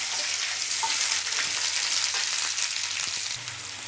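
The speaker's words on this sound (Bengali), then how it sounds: "ডুমো করে পেঁয়াজ আর ক্যাপসিকাম কেটে রেখেছি ভেজে নেব" Diced onion and capsicum fry in a pan, giving a steady, close sizzle with faint stirring scrapes; the hiss drops slightly near the end.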